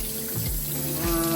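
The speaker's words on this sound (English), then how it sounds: "Let's turn on the water and let the water run." Tap water runs steadily into a bathroom sink at close range, a continuous rushing splash with faint tonal hum, heard alone.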